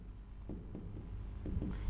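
Chalk or marker strokes on a board during a physics lecture, a few short scratchy taps and lines close by over low room hum, with no talking.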